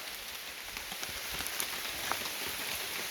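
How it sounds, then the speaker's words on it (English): Steady light rain pattering on a surface, a soft continuous hiss with scattered drops, no voices. "It's raining. Yes, it is still raining. It's a light rain."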